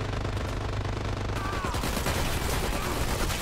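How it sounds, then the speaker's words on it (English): Machine gun fire in the video game Dirty Bomb, a dense, loud burst of rapid shots filling the mix continuously with battle noise. "Hit two to pull out your machine gun."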